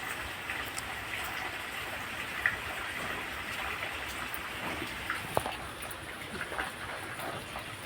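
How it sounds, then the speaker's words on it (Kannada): Steady rain hissing in a broad wash of noise, with a few sharper drops tapping now and then; no voices. "ಮಳೆ ನೋಡಿ ಈಗ ಮಳೆ ಸ್ಟಾರ್ಟ್ ಆಗಿದೆ"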